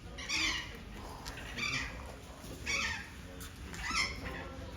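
Birds calling at a Turkish bird sanctuary, with several bursts of bright chattering and squawking calls spaced about a second apart over a steady background murmur.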